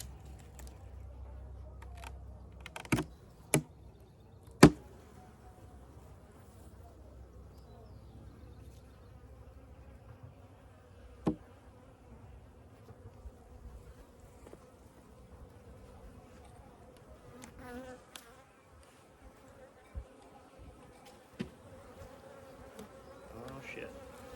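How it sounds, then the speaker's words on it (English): Bees swarm around a just-opened hive in early spring, their buzzing faint and steady throughout, broken by a few sharp clicks and knocks nearby. "those bees are very angry for some reason"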